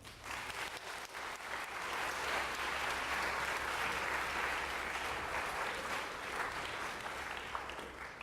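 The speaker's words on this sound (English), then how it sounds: "Can we get a round of applause for our winners?" A crowd gives a sustained round of applause for the winners, dense steady clapping that builds and holds at a fairly distant, soft level with no talking over it.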